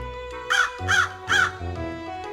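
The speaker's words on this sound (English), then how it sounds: "stood happily cawing upon Izzy's hand" A crow gives three loud, harsh caws in a quick, evenly spaced row, close by over a steady background hum, with no talk.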